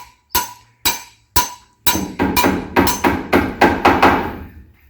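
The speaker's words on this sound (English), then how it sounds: "Resorted to a hammer in the end." A hammer strikes repeatedly at an old house refurbishment, driving something in: three spaced, sharp blows, then a quicker run of about eight ringing, close hits, with no talk.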